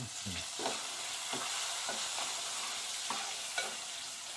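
Sliced onion sizzles in hot oil for a rasam tempering, with a steady close fry and repeated soft scrapes of a spoon stirring the pan.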